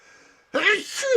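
A single sharp human sneeze bursts out after a brief quiet intake, loud and close, followed by a short trailing breath.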